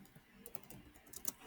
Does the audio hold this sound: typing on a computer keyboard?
yes